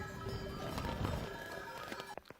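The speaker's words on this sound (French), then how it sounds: "Il y a encore des chèvres qui vont arriver là, je crois, vu le bruit que ça fait." Goats moving nearby, a busy mix of hooves, faint bells and rustling, ending in a few sharp knocks.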